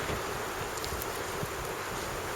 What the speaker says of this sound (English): As you can see, the wind is pretty strong.